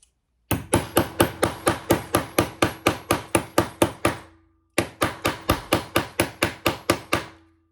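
Rapid, steady hammer blows punching a hole in leather, two bursts of about a dozen sharp strikes each separated by a short pause, close and loud.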